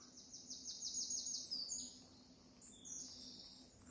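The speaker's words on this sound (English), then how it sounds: "look, and listen to the birds." Songbirds trilling and chirping in Thrunton woods, Northumberland: several bright, fast repeated phrases overlap near and at middle distance, quiet but clear over a low steady hum.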